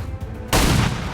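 A pistol shot in XCOM 2 breaks a quiet hum with one sharp, loud crack that then rings out as a wide, lingering blast.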